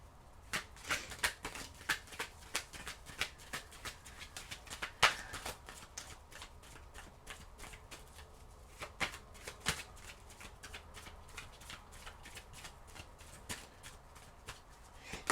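Tarot cards are shuffled close by, with quiet repeated slaps, riffles and soft snaps in an irregular rhythm over a faint room background.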